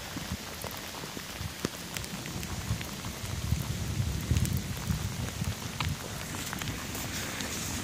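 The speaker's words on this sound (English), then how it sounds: "By the way, it's raining, if y'all can't tell." Steady rain falls outdoors, pattering densely on surfaces nearby with a constant hiss and occasional louder drips, no voices heard.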